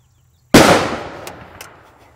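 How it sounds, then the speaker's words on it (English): An old 7x57mm Spanish Mauser rifle fires and bursts: a single sharp, loud gunshot-like bang, close by, followed by a brief crackling decay and a couple of faint pops. "Sounded like a gunshot."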